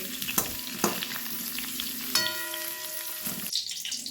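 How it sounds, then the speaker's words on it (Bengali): Cauliflower florets sizzle in hot oil while being turned, a constant close crackling broken by several scraping clacks of a utensil against the pan. "ভালো করে উল্টে দুদিক করে ভালো করে ভেজে নিতে হবে"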